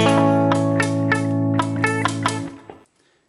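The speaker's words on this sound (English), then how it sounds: "You might be playing a bar chord and it sounds a bit like this" A buzzing barre chord on guitar is strummed repeatedly in a steady rhythm, with a slightly rattling tone, before the ringing is muted and stops.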